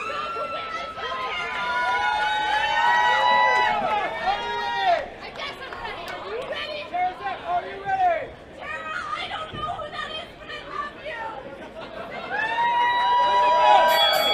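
A wrestling crowd at a WPW Slams of Summer event cheers and chatters for Tara Zepp, a steady roar of many voices with a few sharp shouts, rising at the start and again near the end.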